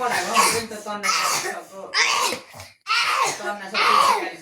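A person coughs in a string of harsh, deliberate bursts with short pauses between them, close and loud, mimicking a bad cough.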